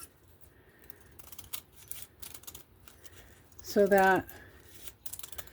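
Scissors snip through craft board while trimming a board book cover thinner, a brief close burst of cutting and rubbing near the middle, with a person talking quietly around it.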